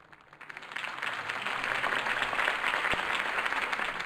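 A crowd in Batman: The Telltale Series bursts into applause after Harvey Dent's campaign speech, the clapping swelling in over the first second and then holding as a steady, full roar.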